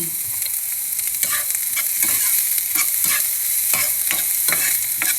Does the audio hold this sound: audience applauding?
no